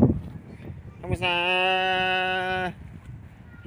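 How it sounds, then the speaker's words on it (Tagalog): Goat bleating at a home in Cavite, a single sustained call of over a second, fairly close, between bursts of people talking. "Kambing."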